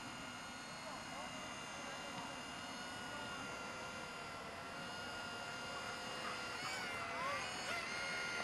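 A small beginner RC helicopter flies nearby, its rotor and motor holding a steady, high whine that swells slightly near the end, with no talk over it.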